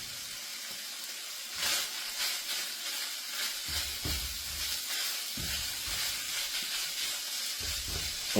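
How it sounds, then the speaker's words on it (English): Chopped vegetables for dirty rice sizzle steadily in a hot pan, a constant hiss with a few louder scraping stirs of a utensil, close and alone. "And the chopped vegetables. And we're going to give this a nice stir."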